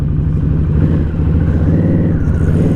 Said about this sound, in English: I believe that's a Two Brothers exhaust on here